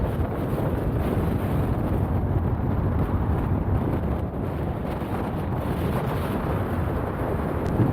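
Strong mountain wind buffets the microphone in a steady, loud roar with dense low rumble, easing only slightly in places, no voices.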